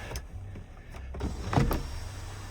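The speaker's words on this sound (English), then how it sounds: "Sunroof works as it should." The sunroof motor of a Chrysler Pacifica Limited whirs briefly as the roof panel moves, a short close mechanical hum with small clicks and no speech.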